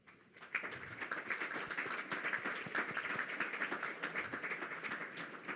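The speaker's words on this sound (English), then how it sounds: "I would a round of applause for them" An audience applauds panelists after an offshore wind energy discussion, a faint, steady patter of many hands clapping that starts quickly and holds throughout.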